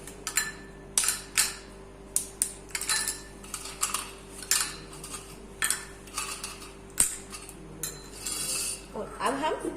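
Dried rabri premix pieces being broken and dropped into a small bowl, a series of sharp irregular clinks and knocks, some louder, with brief crinkling near the end.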